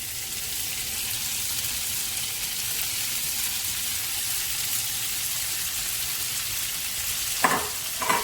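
Onions frying with garlic in a pan for Bicol Express, a soft, even crackling sizzle at moderate heat running throughout, with a couple of brief utensil scrapes near the end.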